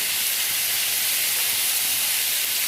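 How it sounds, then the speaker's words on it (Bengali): Constant hissing sizzle of fish frying in oil, even and close, with no voices. "মাছ ভাজা হচ্ছে"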